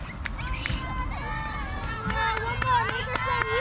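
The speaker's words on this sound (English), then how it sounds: "Crowd's on their feet." Crowd at a youth softball game in Rampage v Venom, a steady busy murmur of spectators with whistles, scattered cheers and kids' voices rising near the end; people talk throughout.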